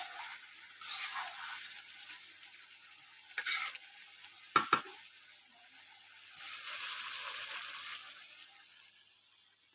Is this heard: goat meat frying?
yes